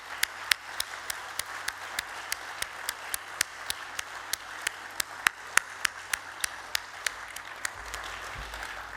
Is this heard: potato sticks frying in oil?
no